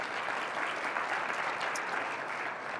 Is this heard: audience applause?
yes